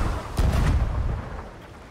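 A single heavy cannon shot booms in the pirate game Sea of Thieves, a deep blast with a rumbling tail that fades over about a second.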